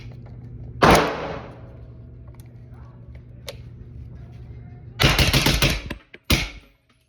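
A 300 Blackout rifle fitted with an Energetic Peak 30 suppressor fires one sharp shot, then after a pause a rapid string of muffled reports in quick succession, close and loud, ending with a final separate burst.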